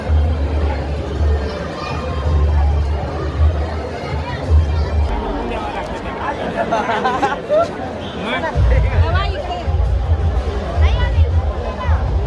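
A crowd gathered at midnight to celebrate Ambedkar Jayanti, a dense, continuous hubbub of many voices chattering and calling out, with a low rumble of engines or music underneath throughout.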